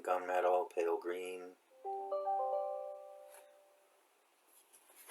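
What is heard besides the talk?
mobile phone notification sound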